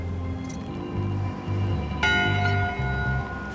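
A ship's bell strikes once, a bright ringing tone in Return to Monkey Island, sounding over low game music and lingering as it fades.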